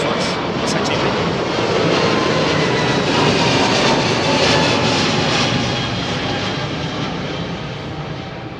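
An airliner powered by Rolls-Royce engines roars loudly and close at London Heathrow, a broad, sustained engine rush that swells and then slowly fades, with people talking faintly underneath.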